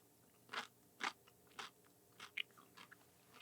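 A dill pickle spear is bitten and chewed, giving a few crisp, wet crunches followed by softer crackling chews, close up and quiet, with no talking.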